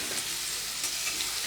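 Pieces of young jackfruit fry in oil, giving a brief, even, close-up sizzle with no pauses and no voices.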